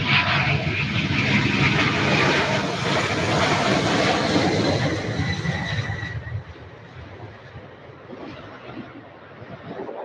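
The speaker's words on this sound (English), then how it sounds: "This is our UPS MD-11 going to Honolulu, Hawaii, everybody. This will be a very heavy aircraft." A heavily loaded UPS MD-11 cargo jet departs Louisville airport for Honolulu, its loud, broad engine roar holding steady before fading as it climbs away into the distance.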